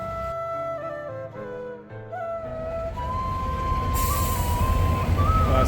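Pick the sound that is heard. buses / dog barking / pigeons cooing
buses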